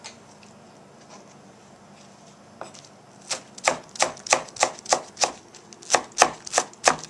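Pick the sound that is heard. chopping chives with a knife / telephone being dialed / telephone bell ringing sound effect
chopping chives with a knife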